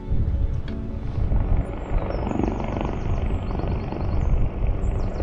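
A helicopter flies overhead at about one in the morning in the Scottish Munros near Ben Nevis, a steady broadband rotor rumble that holds for several seconds, fairly loud and alone with no talking.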